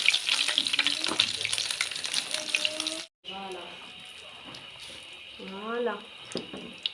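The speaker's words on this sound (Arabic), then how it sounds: "نحطوا البوراكه، نزيدوا لها شويه كبه صغيره، شويه زيت." Brik pastry, a thin Annaba-style crisp pastry, frying in a shallow layer of hot oil, a steady bright sizzle filling the first three seconds, then quieter crackling continuing softly under a speaking voice.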